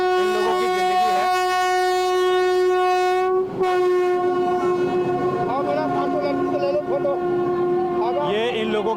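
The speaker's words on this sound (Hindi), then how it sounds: "कितने तेज़ साउंड में जो यहाँ पर रेलवे आपको आता हुआ नज़र आ रहा होगा" A loud train passes close by on a railway track beside slum dwellings, its horn blaring in a long sustained blast over heavy rumble and rattling wheels for the whole stretch.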